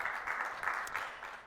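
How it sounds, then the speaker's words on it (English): Clapping from a congregation at a Sunday celebration service, a soft, fairly distant patter of many hands that stays steady throughout the short stretch, with no voices heard. "And now I'm going to ask you to hold your applause to the end"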